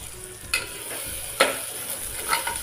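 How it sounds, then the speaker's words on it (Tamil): Moong dal frying in ghee for black kavuni rice pongal, a steady soft sizzle with a few sharp scraping stirs and clicks of a spoon against the pan, close and alone. "இதை அப்படியே இதை நெய்யில் சேர்த்துடலாம் இதை இப்படி ஃப்ரே பண்ணி வைக்கும்போது அதிக ஃப்ளேவராக இருக்கும்"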